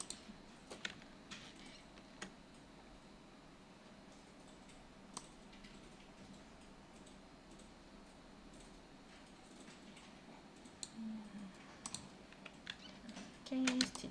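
Computer keyboard keys are pressed and a mouse is clicked while digital fashion sketches are drawn in Illustrator, giving faint, scattered taps and clicks in a quiet room with a few louder bursts near the end.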